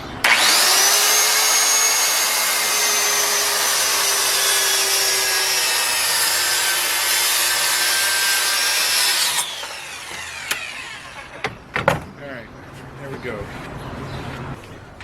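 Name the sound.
sawing a wooden board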